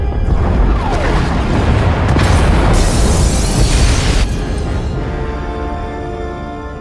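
Pod bays blowing apart in SWTOR, a loud sustained explosion roar with crackling debris that slowly fades into a rumbling tail.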